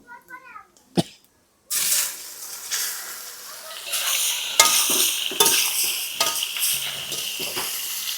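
Mango pieces drop into hot mustard oil with dry red chilli, white mustard and panch phoron, bursting into a loud, sustained sizzle and spluttering fry, with stirring scrapes and a brief voice before it.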